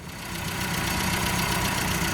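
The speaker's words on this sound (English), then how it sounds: "So we've got the engine's currently running." A car engine with twin carburettors idles steadily, a continuous mid-to-low hum with a slight uneven knock in its rhythm, close and alone without voices.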